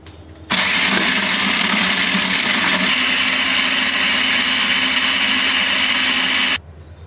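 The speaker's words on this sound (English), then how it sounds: "We are going to finely chop over 4 to 5 medium sized onions in this food processor." A food processor finely chops four to five medium onions for a curry, starting abruptly into a loud, steady high-pitched whirring motor drone that holds for about six seconds, then cuts off sharply.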